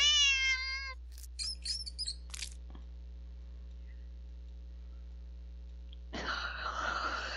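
Cat in a horror video game giving a drawn-out rising meow, followed by a few short chirps and a sneeze-like burst, a long quiet stretch over low mains hum, then a harsh noisy rush at the end.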